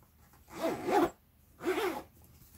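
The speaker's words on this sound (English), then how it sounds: "Yeah, it zips." Two quick zipper pulls on a Vera Bradley bag, each a short rasping burst of about half a second, separated by a brief pause, close and fairly quiet.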